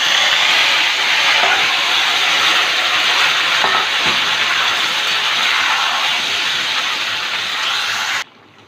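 Chicken pieces hit hot oil in a pan already fragrant with fried cardamom and cloves, giving a loud, steady broadband sizzle that holds for about eight seconds before cutting off abruptly, with no voices.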